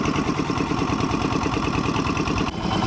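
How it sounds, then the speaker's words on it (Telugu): A rebuilt concrete mixer engine, cleaned and fitted with new parts, idles steadily in a close, loud, even mechanical chug with a fast regular rhythm and a brief dip near the end. "ఇంజన్ అయితే బాగా నడుస్తుంది."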